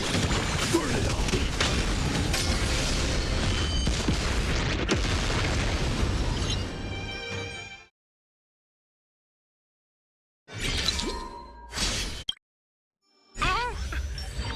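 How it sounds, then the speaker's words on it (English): Booming gas explosions in the video game Honkai Star Rail: a long, dense roar of blasts and crackling fills the first eight seconds, then after silence come short loud bursts separated by gaps. "Yes! Another gas explosion."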